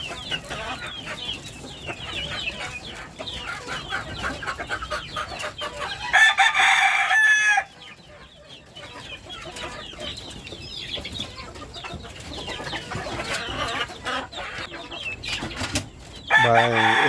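Backyard chickens crow and cluck throughout, with two loud, close rooster crows breaking through the busy flock noise, one in the middle and one right at the end.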